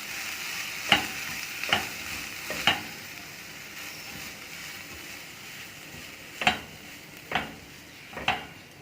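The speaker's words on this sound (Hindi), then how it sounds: "इसके अंदर हम चिकन डाल देंगे और इसे हम मिक्स कर लेंगे" Chicken filling with kasuri methi is stirred in a pan over a constant gentle sizzle, with sharp scraping clinks of the spoon against the metal every second or so.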